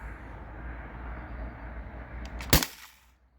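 A single sharp shot from a modified T4E HDB68 paintball pistol fired through a chronograph, one loud crack over steady background hiss, followed by a brief decay into quiet.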